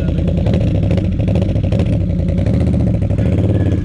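A Can-Am Renegade ATV engine revs loud and close, a steady throbbing drone with rattling clatter running throughout.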